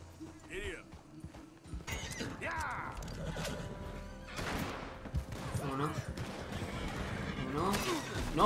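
A horse in the video game Red Dead Redemption 2 whinnies clearly near the start, followed by hoofbeats and busy game sounds, with a player talking over much of it.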